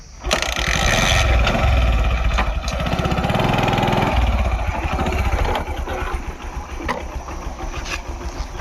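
A motorcycle engine idles steadily nearby, a continuous low rumble with slight fluctuations throughout.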